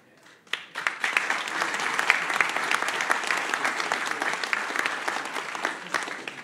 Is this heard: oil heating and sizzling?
no